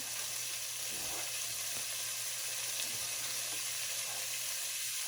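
Onions sizzle steadily in a pot as the base of a Southern-style braised oxtail dish, a close, continuous broadband frying hiss with a few faint stirring scrapes and no talking.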